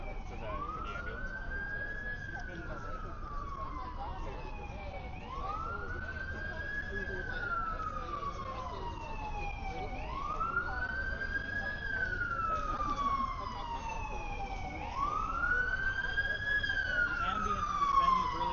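An ambulance siren wails in slow rising and falling sweeps, about four cycles at a steady distance, fairly faint, while people talk nearby.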